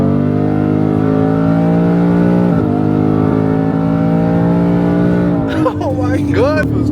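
A tuned Ford F150 pickup floored hard, its engine holding a loud, steady high rev close by, with a brief dip and rise partway through and excited voices breaking in near the end.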